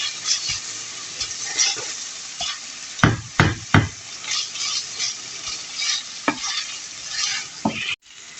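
Lardons browning in a frying pan give a steady close sizzle with scattered spatters, broken by several sharp utensil knocks and scrapes as they are stirred, then a brief pause near the end.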